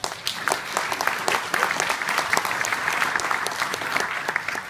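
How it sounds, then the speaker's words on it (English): Audience at a Palm Drive Hospital reopening campaign launch breaks into a steady, dense round of applause, many hands clapping together at an even level throughout. "can you make another round of applause?"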